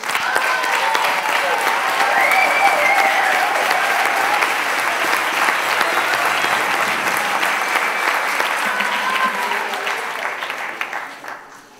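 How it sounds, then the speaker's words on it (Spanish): An audience gives loud sustained applause for two flamenco-style dancers at an event, a thick continuous roar of clapping that holds steady for about ten seconds before trailing off at the end. "pido de todos un fuerte aplauso para la bailadora inconsciente Anabel Piruleta y el bailador inconsciente Ginés López"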